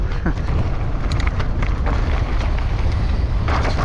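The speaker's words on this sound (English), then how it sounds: "Oh, it's a bit breezy." Strong wind buffets the microphone on a dry, dusty bike park trail at Dyfi, a loud continuous rumbling roar with gusty texture throughout and a few faint rattles, close and dominant.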